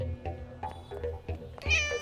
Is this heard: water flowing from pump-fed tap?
no